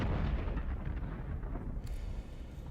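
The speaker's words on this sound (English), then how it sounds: "There's big explosions going on outside." Deep booming explosions roll outside in the video game Dune Awakening, a continuous loud low rumble with overlapping blasts and no voices.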